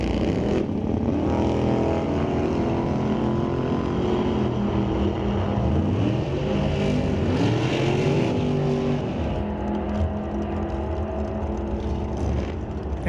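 Drag racing cars, including an S10, launch and roar down the strip at Mission Raceway Park in an ET series race: loud sustained engine roar with rising revs, fading toward the end.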